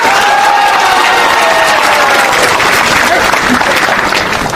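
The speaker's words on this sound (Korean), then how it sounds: "함께 하신 여러분, 통합을 약속하는 박수 한번 부탁 올리겠습니다" Central committee members at a political party leadership convention applaud in a dense, sustained roar of clapping, loud and steady from start to finish with a faint voice trailing under it.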